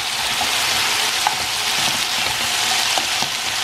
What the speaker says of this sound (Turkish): Tavukları kendi yağımda kızartıyorum bu arada.